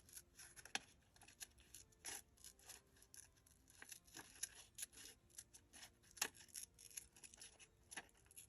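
Scissors snip around a group of printed roses on copy paper, giving a close, intermittent series of sharp cuts and soft paper rustles with no voices.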